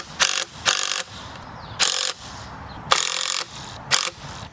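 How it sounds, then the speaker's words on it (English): Lag screws being driven into a metal gate latch with a power driver, five loud whirring bursts separated by short pauses, close up with no talk. "I'm just gonna sink these lag screws into my latch"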